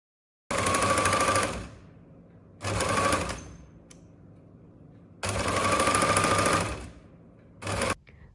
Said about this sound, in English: I switch to the longest stitch to do the gathering. I'm making 2 rows of stitching line.